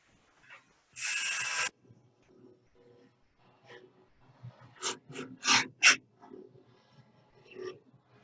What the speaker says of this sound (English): I'll do this with spindle roughing gouge.